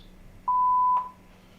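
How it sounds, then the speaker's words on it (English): A single clean voicemail beep, a steady electronic tone lasting about half a second, close and clear over faint background hum. "Please leave a message after the beep."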